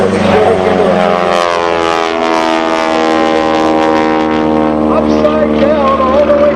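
A propeller aerobatic airplane flies inverted along the show line at an air show, its loud, steady engine drone with a sustained harmonic whine filling the whole stretch without a break.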